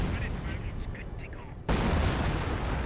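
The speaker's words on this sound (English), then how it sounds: "And there's 25 pounder barrage." A 25-pounder artillery barrage in the WWII strategy game Company of Heroes, a dense rumbling roar of shell fire that swells abruptly and continues loudly.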